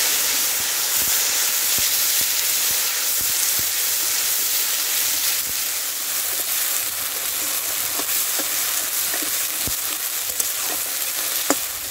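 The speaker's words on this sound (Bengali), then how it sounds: "ফোড়নে যাচ্ছে 2টো তেজপাতা, এলাচ, দারচিনি, আর এখানে সাদা জিরে, চিনি" Whole spices of bay leaves, cardamom, cinnamon and cumin, plus sugar, sizzling in hot oil for a Bengali fig and egg curry, a loud, steady frying hiss with scattered small pops and crackles throughout.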